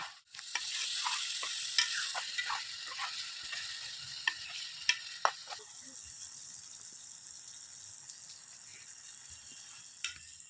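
Homemade amla (Indian gooseberry) hair oil heating slowly in a pan on low flame, a quiet hissing sizzle with sporadic pops and clicks early on that settles into a faint steady hiss.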